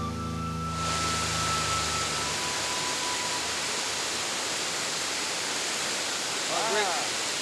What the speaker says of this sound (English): Just check that waterfall, man. It's beautiful, huh?